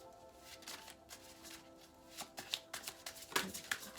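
Tarot cards are shuffled in soft, quick riffling and slapping bursts, close and quiet, with no talking.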